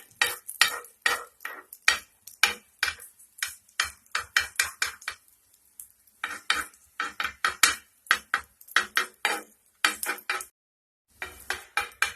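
A bread omelette frying in a pan while a spatula nudges it around, producing a long run of quick, rhythmic scraping clacks against the pan, close and fairly loud, with brief pauses between bursts.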